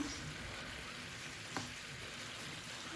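Food with a spoonful of ketchup being stirred in a hot pan, giving a steady soft sizzle throughout with one brief scrape or tap near the middle.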